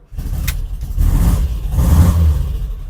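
A bus engine cranks over and catches, then idles and revs up loudly and close by, with a low rumble holding steady through the short stretch.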